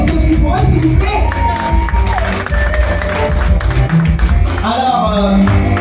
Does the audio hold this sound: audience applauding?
yes